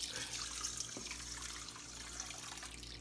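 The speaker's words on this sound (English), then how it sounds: "just put it back in a bowl and add water." Water poured from a tap into a bowl of brown rice, a steady splashing stream heard close and fairly quiet over a low hum.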